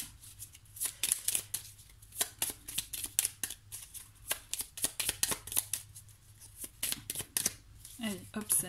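A card is pulled from a playing-card deck amid repeated crisp riffling and flicking of cards, close and fairly loud in uneven bursts, with a voice talking at times.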